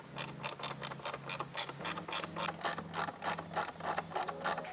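A ratcheting driver clicks rapidly and evenly as screws are driven back into a 2022-2024 Toyota Tundra side mirror, a quiet close mechanical ticking with slight changes in pitch between screws.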